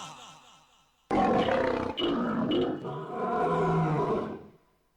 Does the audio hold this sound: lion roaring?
yes